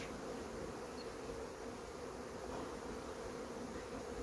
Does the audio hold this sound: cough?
no